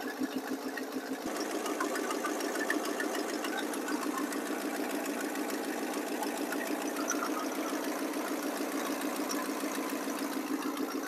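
A 1979 Chevrolet C30 squarebody truck engine idles cold after a carburetor rebuild, running a little low on vacuum; a steady, close, continuous rumble with a fast even ticking pulse throughout, no talk.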